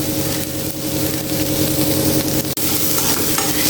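Spinach thoran steadily sizzling and frying in a pan, with continuous close crackling and a steady hum underneath, briefly interrupted near the end.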